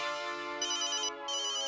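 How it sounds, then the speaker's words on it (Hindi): A phone ringtone plays loud and close, a steady electronic melody with a brief gap in the middle. "देखो देखो, शायद सोनू का ही फोन हो."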